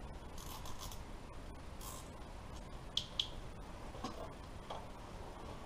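Cable ties snipped with cutters during a speed density wiring job, two crisp close clicks in quick succession in a quiet room, followed by faint handling taps.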